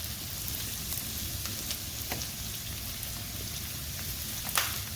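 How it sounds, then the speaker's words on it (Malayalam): Sliced onions sizzling steadily in a pan for a Kerala-style spicy liver fry, a soft even crackle with faint stirring clicks now and then, close and unbroken throughout. "നമുക്കിതിന് ഇതിലേക്ക് സവോള ചേർത്ത് വഴറ്റാം."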